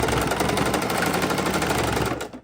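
A sewing machine stitches a fabric microwave potato bag in a fast, steady mechanical rattle that runs loud and close for about two seconds, then stops abruptly.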